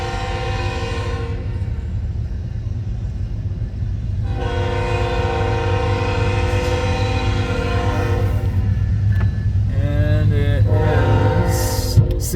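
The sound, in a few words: CN freight train passing with locomotive horn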